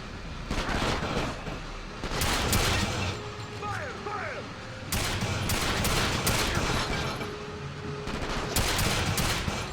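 Gunfire on a barge in the PS2 version of 007 Quantum of Solace sounds as repeated bursts of shots and volleys over a steady loud din, with a voice speaking at times.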